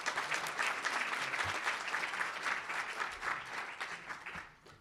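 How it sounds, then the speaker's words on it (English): Audience applause at a school conference, a dense, steady wash of clapping from a crowd that fills the whole stretch and tapers off at the end. "Could we please get a round of applause for him,"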